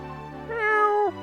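A single cat meow from the Dragon Quest 6 DS game, clear and close, a short rising then falling tone over a steady background music drone, with no talk.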